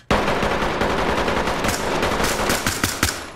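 Rapid automatic fire from an MP5 in the game Ready or Not, one loud continuous burst at close range with distinct individual shots audible toward the end.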